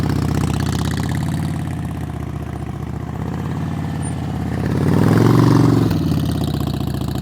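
Motorcycle engine idling and revving gently during slow-speed riding practice around cones, a steady mid-low rumble with a brief swell in throttle near the end, close and continuous with no talk.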